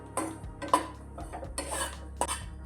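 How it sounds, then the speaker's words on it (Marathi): Kheer ingredients are roasted in a pan, with a few metallic scrapes and clinks of a spoon against the pan coming at an uneven pace over a quiet low hum. "याला चांगलं व्यवस्थित परतून घ्यायचं।"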